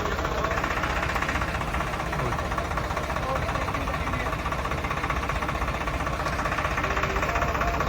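A CRDI 655 tractor engine runs steadily close by, a constant loud mechanical rumble with a faint knocking texture throughout.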